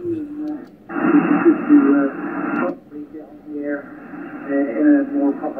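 Radio station audio received on a Yaesu FTDX101D transceiver with the VC tune switched off, a voice-like broadcast rising clearly over background noise, with steady bursts and a brief dip midway.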